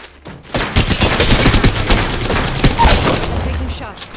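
Dense, loud bursts of automatic gunfire in the video game Apex Legends, sustained rapid shots filling about four seconds with no pause.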